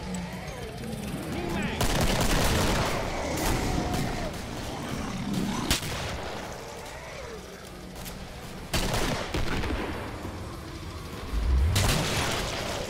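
Gunfire in the Killing Floor shooter game, a mix of rapid bursts and heavy booming shots in clustered volleys, with a voice talking over the shooting.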